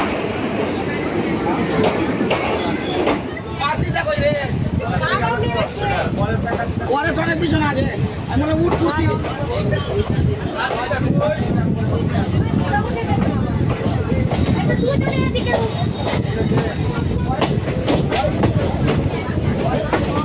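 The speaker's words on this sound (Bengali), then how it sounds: "পাঁচ মিনিট লেট করে আমাদের ট্রেন বোলপুরের 1 নম্বর প্ল্যাটফর্ম থেকে ছেড়ে দিল।" Loud continuous rumble of the Tebhaga Express departing platform 1 at Bolpur with rattling carriages, while several people talk over it.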